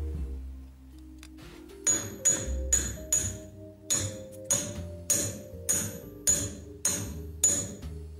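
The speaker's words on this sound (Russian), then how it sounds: "Теперь сверху первого стопорного кольца мы забиваем обойму номер 2." A worn bearing race being driven into a UAZ Patriot wheel hub, struck with a hammer about a dozen times in a steady rhythm, each blow a sharp metallic clink, close and clear over faint background hum.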